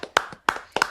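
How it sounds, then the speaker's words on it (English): A few slow, deliberate hand claps, three sharp close claps spaced evenly apart in a quiet room. "Slow clap for Michelle."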